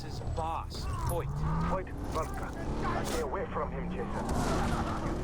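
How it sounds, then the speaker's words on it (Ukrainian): Gunfire rattles through Far Cry 3 gameplay in a few sharp bursts, mixed with game effects and heard under nearly constant talk from the players. "Ой, стріляють."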